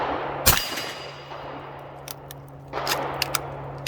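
Lever action of an 1865 Spencer carbine cycling the next round, a sharp metallic clack followed by lighter rattles and clicks, close and alone.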